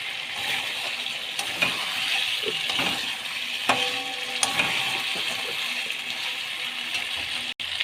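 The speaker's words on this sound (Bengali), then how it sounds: "এই যে এটা পুরো গরম জল, এই গরম জলটা দিয়ে দিচ্ছি।" Hot water poured into a pan of browned, sizzling mutton curry, a steady close frying hiss with brief stirring clatter and a few sharp bursts of spitting as the liquid hits the hot oil.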